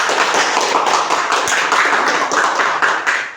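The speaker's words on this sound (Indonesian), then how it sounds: "tepuk tangan untuk kelompok pertama" A classroom of students claps for the first group, a dense, even burst of many hands close by, sustained without pause and with no talk over it.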